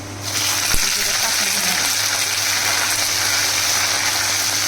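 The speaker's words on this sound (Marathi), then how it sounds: "हे अद्रक लसणाची पेस्ट थोडीशी आता तळलेली आहे" Ginger garlic paste frying in hot oil with cumin and garlic: a loud, continuous hissing sizzle, close and even from start to finish, with no speech.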